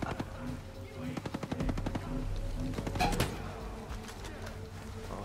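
Enemy gunfire in the video game Ghost Recon Breakpoint crackles in rapid automatic bursts, fairly faint and somewhat distant, with a few sharper single shots mixed in under low background noise.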